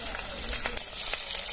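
Tomato and green chillies sautéing in hot oil for a Tamil pirandai fish curry, a loud continuous sizzle with occasional soft clicks of stirring.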